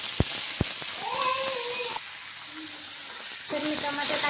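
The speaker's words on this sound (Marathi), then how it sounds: "असं थोडंसं फ्राय करून घ्यायचं, याला थोडंसं फ्राय करून घ्यायचं" Tomatoes with garlic fry in a pan for a paneer curry paste, giving a continuous close sizzle, with two sharp knocks at the start and cat-like meowing tones rising over the frying.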